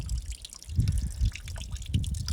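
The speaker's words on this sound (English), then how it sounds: "I've filled it out of the pipe, but it's spring water" Spring water trickles and drips from a pipe outdoors on a mountain hiking trail, a steady, soft, close-up splashing with uneven low gurgles and no voices.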